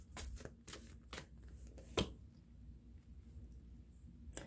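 Tarot cards shuffled for a reading, a run of quick crisp riffling bursts in the first two seconds, then quiet with one last soft flick at the end, close and fairly faint.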